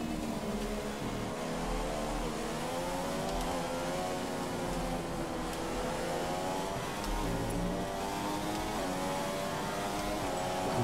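A Formula 1 car engine in the video game F1 2015 at Melbourne, Australia roars steadily throughout, its pitch rising and falling as it revs and shifts, loud and continuous with no voices.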